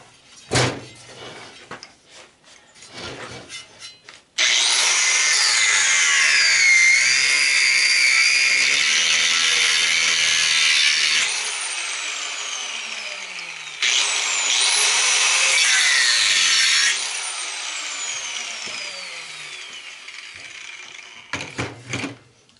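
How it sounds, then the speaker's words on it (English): Angle grinder cutting through a tire near the tread to get off the rim, running as a loud sustained high whine for long stretches, with a brief break in the middle and quieter handling noises before and after. "make that little cut there where I can get in there with the angle grinder"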